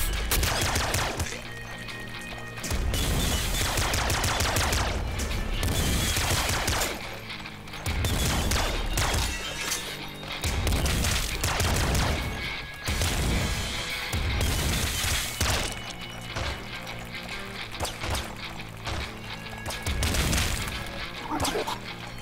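Video game gun firing discs in repeated bursts, sharp shattering impacts and crashes popping out in clusters with brief pauses between, loud and close against a busy game backdrop.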